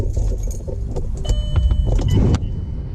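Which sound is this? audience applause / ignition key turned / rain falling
ignition key turned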